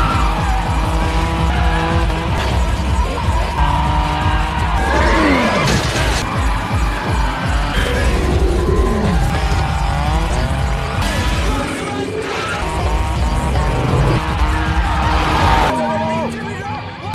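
Cars race through an underground parking basement in a drift race with Han's car, one striking a pillar: a loud, continuous engine roar with repeated tire squeals and skids throughout, with voices at times.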